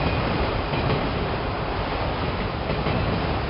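A freight train led by a Norfolk Southern engine rolls past nearby with a dense, continuous rumble and rattle of wagons, steady and loud throughout, with no voices.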